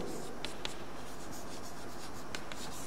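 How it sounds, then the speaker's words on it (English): Chalk or marker strokes on a lecture board for a structural engineering class, a few short scratchy taps and rubs standing out faintly over steady room hiss. "for want of space I write it here"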